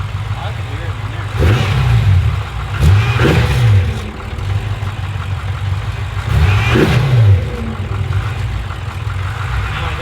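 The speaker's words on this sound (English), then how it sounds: "close, and I'll give you a little rev." Built engine in a BMW M5 blipped three times from idle, each rev rising and falling quickly over a steady, loud idle rumble recorded close to the car.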